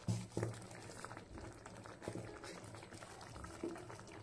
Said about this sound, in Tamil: ஃபைவ் மினிட்ஸ் நல்லா கொதிக்கட்டும்.